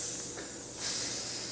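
A voice imitating the hiss of a steam train, a broad continuous breathy hiss that swells partway through and holds steady, close up.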